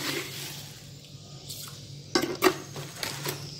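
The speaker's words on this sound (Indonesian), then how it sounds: "Ini diaduk-aduk dulu" A spoon clinks and scrapes against a metal pot as sugar water with a little salt is stirred, a few sharp taps over soft sloshing, close by.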